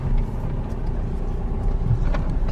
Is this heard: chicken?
no